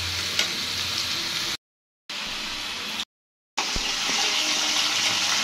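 Ginger paste goes into garlic frying in oil for a homemade pickle, giving a steady, close sizzle that cuts out twice briefly and then returns a little louder, with no voices.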